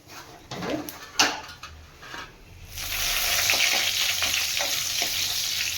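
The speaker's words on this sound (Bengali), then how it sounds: "লাল করে লাল করে ভেজে নিচ্ছি" Cumin seeds, dried red chilies and bay leaves frying in hot oil, first with scattered stirring clatter and crackles, then a loud, steady sizzle filling the second half.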